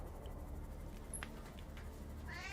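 A pet cat meows faintly in a room while being fed, a short high call rising near the end of the clip, with rustling and low background noise and no one talking.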